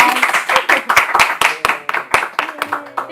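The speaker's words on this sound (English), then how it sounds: "Ending applause." A small group claps at the close of an interview, a few seconds of close, uneven hand claps with cheerful voices mixed in.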